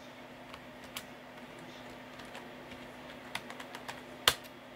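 A password is entered on a computer keyboard as a handful of light, scattered key clicks at a quiet, close range over a faint electrical hum, ending in one sharper tap.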